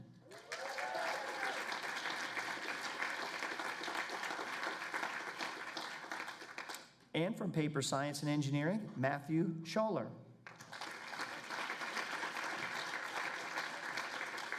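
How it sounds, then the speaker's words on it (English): Steady applause fills a university engineering awards ceremony, a dense, even wash of clapping that breaks briefly while a presenter announces a nominee and then resumes as strongly as before. "Please join me in giving all of our nominees in the category of humanities a huge round of applause"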